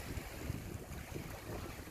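Sea water moves along a rocky seaside, making a low, soft, continuous wash of surf mixed with wind noise, with no talking.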